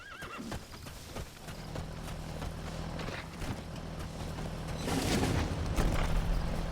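D-Horse, the horse in Metal Gear Solid V: The Phantom Pain, clip-clops along in-game with a whinny and ongoing hoofbeats, fairly faint under outdoor game ambience.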